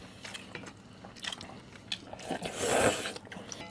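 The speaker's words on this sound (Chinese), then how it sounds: "这白叶到嘴里嘎嘣脆" Crunchy bites of boiled beef tripe from a homemade spicy red-oil hotpot, a series of close, soft chewing and crunching sounds with a louder crunchy burst near the end, no talk.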